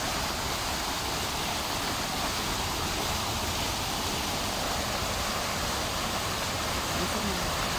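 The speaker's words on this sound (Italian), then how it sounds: "Vedete l'acqua che scorre." Water flows steadily from a park fountain in Piazza Solferino, Turin, as a continuous even rushing hiss that stays at the same level throughout with no pauses.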